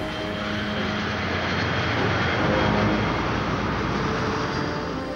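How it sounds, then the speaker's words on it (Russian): A Dassault Mystère jet aircraft flies past, a steady, loud broadband engine roar that swells slightly toward the middle and holds throughout with no voices. "Чак Йегер приезжает во Францию на испытание нового самолета Dassault Mystère, также преодолевшего звуковой барьер."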